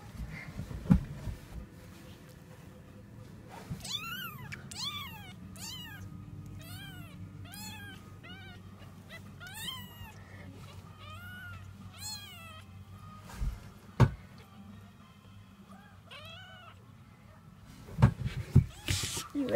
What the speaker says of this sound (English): here's the baby kitties